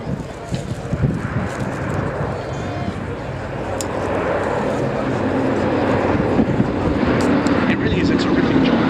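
Sally B, a vintage aircraft, flies over the Waddington airshow as a steady, broad engine drone that swells slightly louder toward the end, heard from a distance over crowd noise with some talk.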